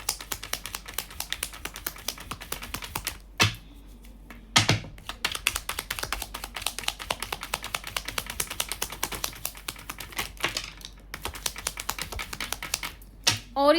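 Tarot cards taken out of a deck and laid down, producing rapid close clicks, flicks and taps in irregular bursts with a few brief gaps, with no one speaking.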